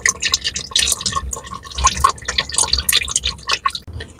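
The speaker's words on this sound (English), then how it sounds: "all the oil's coming out. So let it drain away first into the tray." Engine oil drains from a Cadillac SRX V8 into a tray, giving a close, irregular spattering and dripping with liquid splashes throughout.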